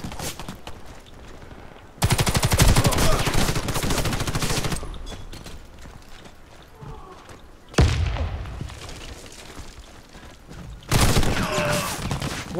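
Gunfire in the shooter game Warface: loud bursts of rapid automatic fire in several separate volleys, with thumping impacts between them, close and dominant with no talk over them.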